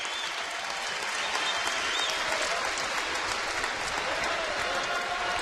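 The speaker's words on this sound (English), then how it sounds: "the crowd here at UD Arena comes to their feet, acknowledging their team in a much-needed victory" A basketball crowd at UD Arena rises and applauds after a home victory, dense continuous clapping and cheering that fills the arena at a steady roar throughout.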